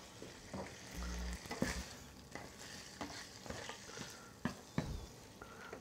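Sausage frying in a pan, a steady sizzle with intermittent crackles and a few sharper spits and clatters, close and clear with no one speaking.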